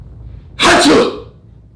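A parent fakes a sneeze for a baby, a single loud, sharp vocal 'achoo' burst lasting about half a second, close to the microphone and followed by quiet; it is a voice imitating a sneeze.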